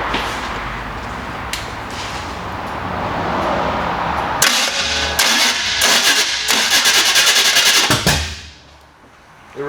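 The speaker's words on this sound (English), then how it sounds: "We tried to start it, but not too dangerous." A 1971 Chevy Nova with a big block Chevy engine cranking over rough and loud, then catching in ragged bursts before cutting out; a steady roar runs beneath the cranking.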